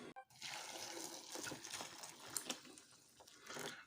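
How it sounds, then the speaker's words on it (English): Water is poured into a pan of curry base with chili and ginger, making a soft, close trickling and splashing that lasts a few seconds after a brief knock at the start. "Add water."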